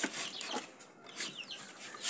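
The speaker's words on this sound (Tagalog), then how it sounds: "Papakain tayo ng ating alagang kalapati." Pet pigeons at feeding time, with soft bird calls and cooing-like sounds repeating in short bursts over a faint, steady background, close by and moderately quiet, with no talking.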